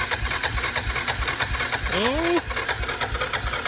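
An old boat engine, a free boat's motor just started with the choke on, runs with a rapid, steady mechanical chatter up close, while a voice exclaims briefly over it.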